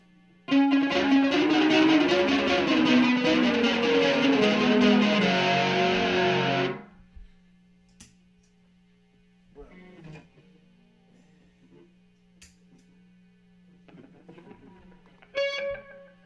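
A black Stagg SEL-P90BK electric guitar with P90 pickups played through an echo effect at maximum time and distance, a loud strummed passage of repeating echoed notes that stops abruptly, followed by quiet hum and faint scattered plucks.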